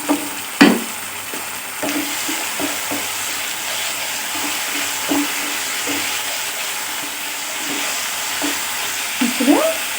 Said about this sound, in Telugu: ఇది అల్లం వెల్లుల్లి మసాలా అంతా తీసుకున్నాం కదా, దీన్ని కూడా వేసేసుకుని వేపుకోవాలి.